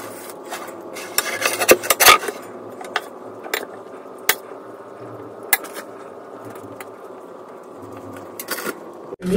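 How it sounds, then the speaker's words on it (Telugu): Butter is spread across a slice of wheat bread in short, dry rasping strokes, close by and fairly quiet, with a few louder scrapes in an uneven rhythm and no talking. "బటర్ని దీనిపైన ఇలా మనము రాసుకోవాలన్నమాట"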